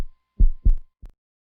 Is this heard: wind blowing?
no